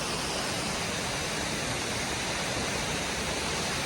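Iruppu waterfall pours in a steady, dense roar of rushing water, loud and unbroken from start to finish, with no voices heard over it.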